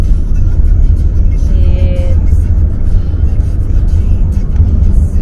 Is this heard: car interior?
yes